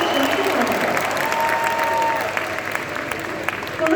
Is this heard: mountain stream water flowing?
no